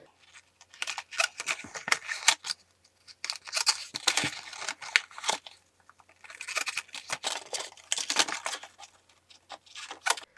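Scissors cutting paper tabs for a mini craft box, close and crisp, with bursts of rapid snipping and paper crinkle separated by short pauses.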